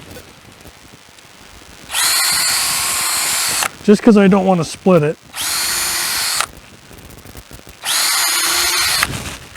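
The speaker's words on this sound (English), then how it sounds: "So I'm going to drill a couple holes through this" Power drill boring holes through a ripped 2x4 while building rabbit hutch doors, with three loud sustained whirring drill runs separated by pauses, and someone speaking briefly between them.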